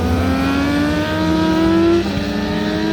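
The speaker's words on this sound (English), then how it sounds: "these leader bikes are completely off the throttle on these on the inside, and then he throttled out kind of late" Kawasaki ZX6R sport bikes roaring around a race track on a track day, engines revving hard with rising and falling pitch as riders roll off and throttle out of corners, loud and continuous throughout.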